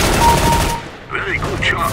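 Gunfire in CS:GO, a loud dense burst of shots up close that cuts off partway through, followed by excited voices shouting.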